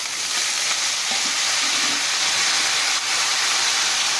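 Curry leaves, a mix of dried and fresh, fry in a pan for a thuvaiyal, giving a loud, steady crackling sizzle that holds evenly from start to finish.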